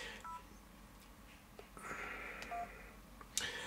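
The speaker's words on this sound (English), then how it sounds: "I'm going to dial my voicemail, which for O2 is 901." Keypad tones from an LG KF700 mobile phone as the O2 voicemail number 901 is dialed: three short electronic beeps spaced apart, close and clear, with a few faint handling clicks and no talking.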